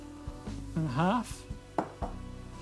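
A knife thinly slices garlic cloves on a board: a few sparse, sharp cuts spaced irregularly, with a brief tonal hum in the middle and no talking.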